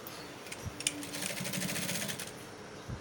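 A sewing machine runs steadily, stitching fabric in a fast even rhythm for a few seconds, close and fairly loud with no talking.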